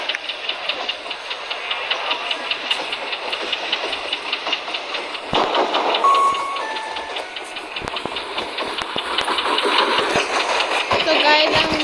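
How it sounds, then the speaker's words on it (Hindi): Inside a moving train carriage, a steady rumbling roar with rhythmic rattling runs throughout, growing louder and busier partway through, with faint talk from passengers around. "तो गाइस हम चढ़ चुके हैं अपनी ट्रेन में।"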